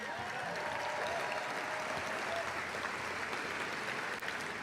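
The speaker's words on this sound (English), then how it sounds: "round of applause for Kilatu Ipsinongingna, the strength of the drum." Steady applause from an audience at the 2025 ECMA red carpet event, a dense even wash of clapping held at a constant level throughout.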